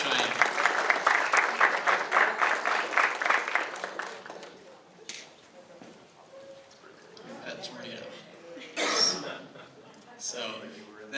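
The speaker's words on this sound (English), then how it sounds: "Let's give a round of applause for Cheyenne." Audience applause at a general meeting for a contest winner, steady clapping for the first few seconds, then thinning out into scattered claps, murmurs and light chatter.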